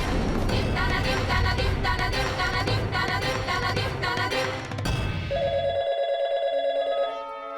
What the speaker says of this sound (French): Ne décroche pas. C'est sûrement moi qu'on appelle.